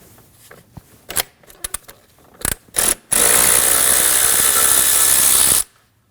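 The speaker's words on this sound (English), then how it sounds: "Using an 8mm, we're going to remove the bolt holding the MAP sensor in." A ratchet with an 8mm socket turns out the MAP sensor bolt on a 2013-2015 Subaru XV Crosstrek 2.0L H4, starting with a few scattered clicks and handling noises and then a loud, steady ratcheting buzz lasting about two and a half seconds.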